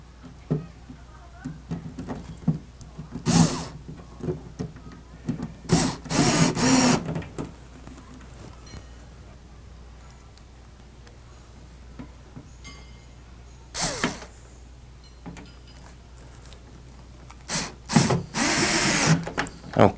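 A power drill drives square-head Robertson screws into the front of a Rock-Ola Jump Bug arcade cabinet under restoration, in several short close whirring bursts separated by quieter pauses with faint background noise.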